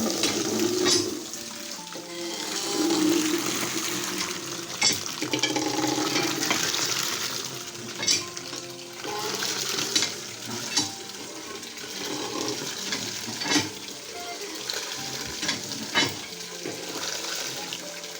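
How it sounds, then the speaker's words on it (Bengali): Cut taro leaves are rinsed and sloshed in water by hand, with continuous splashing and swishing punctuated by sharper splashes and knocks, close and fairly loud throughout. "এখন কচু শাকগুলো ভালো করে ধুয়ে নেব"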